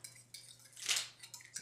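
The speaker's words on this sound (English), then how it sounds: "So what you're gonna do is you're just gonna kind of stir that up in there" A spoon stirs a mixture of cashew milk, flaxseed and vinegar in a bowl, giving a few soft, close scrapes and light clinks, with one brighter clink near the middle.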